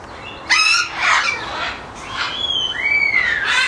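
Exotic parrots perched up high let out a few harsh, rising squawks one after another, loud and fairly close, with short pauses between the calls and no talk over them.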